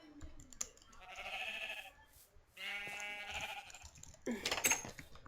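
Sheep in the Minecraft video game bleat in a few synthetic, wavering cries spaced across a quiet stretch, moderately loud with no voice over them.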